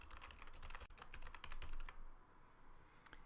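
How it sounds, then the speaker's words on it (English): Rapid, close clicking of computer keys as a work order summary is typed, a dense burst of keystrokes that thins into a few scattered taps near the end. "Here we'll simply type in a summary for our work order."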